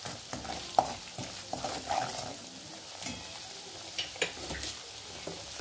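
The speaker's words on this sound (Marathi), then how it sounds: "आपले मसाले चांगले परतवून झालेले आहे" Garam masala and spices frying in a pan for jackfruit curry, a soft sizzle under intermittent spatula stirring and scraping, close and fairly quiet, without speech.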